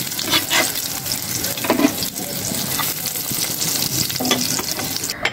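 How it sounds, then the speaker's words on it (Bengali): Fish kofta frying in oil in a pan, a busy crackling sizzle up close with occasional scraping as the pieces are turned, no speech over it. "আর একটু ভাজি"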